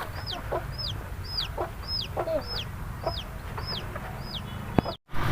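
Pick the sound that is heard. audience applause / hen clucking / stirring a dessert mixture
hen clucking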